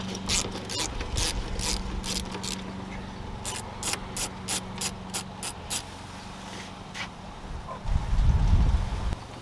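A ratchet wrench loosens 8mm clamps on the throttle body of a 2008-2014 Ford F-150, with bursts of quick clicking strokes and a lawnmower droning in the background.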